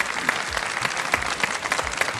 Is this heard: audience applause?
yes